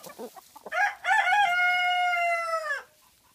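A rooster crows nearby, a loud, drawn-out call preceded by brief clucking from chickens, then silence.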